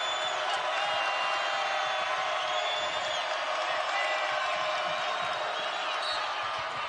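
At an LSU versus Auburn college basketball game, the arena crowd gives off a continuous, even roar of cheering with no breaks.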